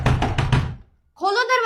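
Firm knocking on a door, a quick run of about four loud knocks close by, followed by a short pause and then a shouted voice.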